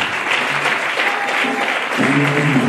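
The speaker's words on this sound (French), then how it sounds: "Est-ce qu'on peut acclamer, s'il vous plaît?" Audience at a prize-of-excellence ceremony applauding steadily, a dense close patter of clapping that swells a little near the end, with faint voices mixed underneath.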